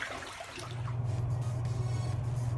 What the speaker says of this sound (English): you can hear this flush of water just flying out